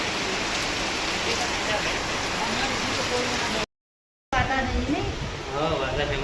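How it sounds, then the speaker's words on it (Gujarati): Heavy rain pours down in a dense, loud, steady hiss that cuts out briefly partway through, with a voice talking over it. "તો વરસાદ ચાલુ થયો ખતરનાક"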